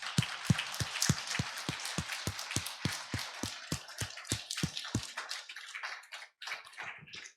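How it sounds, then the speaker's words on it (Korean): A church congregation at a Sunday anniversary service claps in steady unison, with sharp, evenly spaced beats for about five seconds that then break into a looser, scattered patter. "여러분 힘차게 우렁찬 박수로 하나님께 영광 돌립니다"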